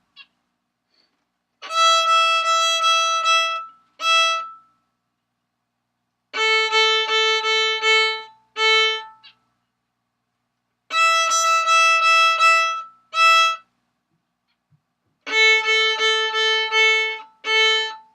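A bowed string instrument plays a repeating phrase of sustained notes, alternating between two strings in even groups separated by short pauses.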